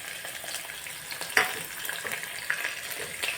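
Food frying in a pan, left undisturbed until crisp, gives a steady, fairly quiet hiss of sizzling oil, with one sharper crackle about a third of the way through and a smaller pop later.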